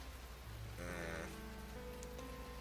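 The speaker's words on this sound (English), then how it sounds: "the rain slowed to a heavy drizzle" Rain falling in the visual novel The Fruit of Grisaia, a soft steady patter under quiet background music, faint and continuous.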